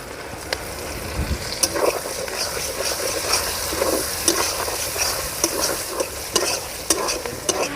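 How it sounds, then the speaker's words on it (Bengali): Chopped tomato drops into onions frying in a pan over a clay stove, followed by close, steady stirring and sizzling with scattered sharp scrapes of the spoon against the pan. "পেঁয়াজ কিছুটা সময় ভেজে নিয়েছি এবারে দিয়ে দেবো টমেটো কুচি"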